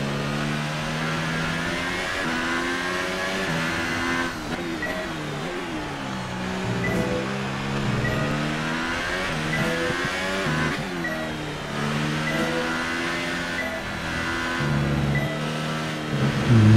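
An F1 car engine in the F1 2018 racing game, practice session at the Hungarian Grand Prix, revs up and down steadily through gear changes for the whole stretch, loud and close with no talking over it.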